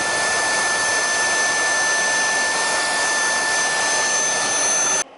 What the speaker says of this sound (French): là l'aspirateur est passé en mode séchage, donc il va sécher comme ça